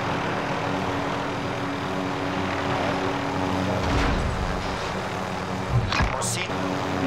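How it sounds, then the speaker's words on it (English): A helicopter hovers in Call of Duty Warzone, its rotor and engine giving a continuous loud drone. Game sounds and a short burst of noise near the end sit over it. "Be cool with the helicopter."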